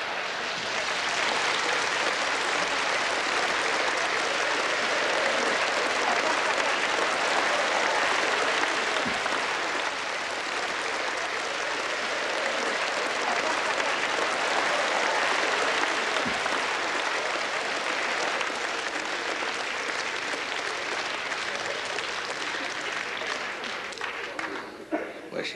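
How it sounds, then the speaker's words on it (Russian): Sustained audience applause fills a concert hall during a comedy and musical parody show, a dense, steady wash of clapping from a large crowd that holds loud and even throughout before tapering slightly at the very end. "Аплодисменты."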